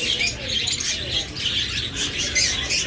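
A crowd of turquoise pet parrots, Forpus and lovebirds, calls continuously in a bird shop, with dense, overlapping shrill chirps and squawks that stay loud and close throughout.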